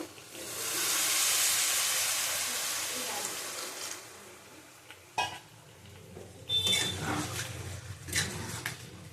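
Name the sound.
water poured into hot oil and spices, sizzling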